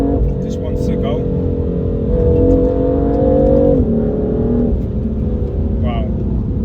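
A stage 1 BMW M3 tuned to 490 bhp accelerating on kick-down, the engine note droning close and steady, then stepping up in pitch as it builds speed.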